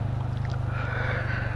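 Motorcycle engine roaring under engine braking in second gear on a steep downhill road, a loud steady low drone with rapid pulsing throughout and no talking.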